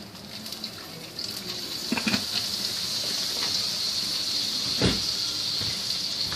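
Water is poured into a hot, unwashed frying pan left over from cooking steak and peppers, giving a steady hiss and sizzle of steam with a few sharper splashes, loud and close throughout.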